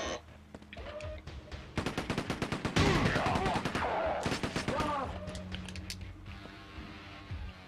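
Rapid automatic gunfire from a weapon in Quake 2 on PS1 rattles in dense bursts, loud and sustained for several seconds, then trails off into scattered shots and game noise.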